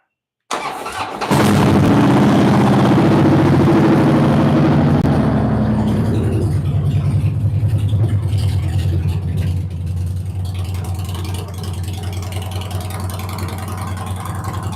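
A Harley-Davidson motorcycle engine cranks and catches, roaring loudly at first, then settling into a steady, low, rumbling idle that continues close by on a hot day, with no talking over it.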